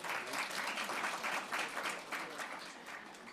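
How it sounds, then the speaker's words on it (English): Steady applause from a conference audience for a panel of presenters at a Commonwealth event, a dense wash of clapping that holds across the whole stretch and eases slightly toward the end. "Give them another round of applause in the meantime."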